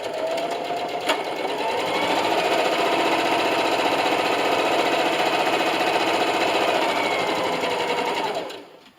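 Close and loud, a sewing machine stitches lines across a fabric notebook cover in one sustained, even run that slows and stops at the end.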